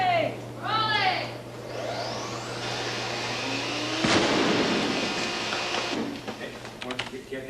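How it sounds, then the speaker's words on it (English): A rigged breakaway miniature model ship blows up for a film effect, a sudden loud blast partway through that trails into rumbling debris, while a voice speaks and clatter is heard before it. "The second explosion is better,"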